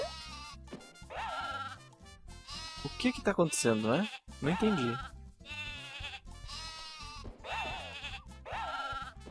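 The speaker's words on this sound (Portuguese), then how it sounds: "Eu tenho que acertar a ovelha, é isso?" Sheep bleating in the video game Croc: Legend of the Gobbos, several wavering bleats repeating over game music while a person talks throughout.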